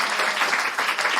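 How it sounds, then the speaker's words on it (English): Short burst of applause from a town hall audience, steady and fairly close, with dense overlapping claps and no talking. "I should have a big round of applause for Melissa"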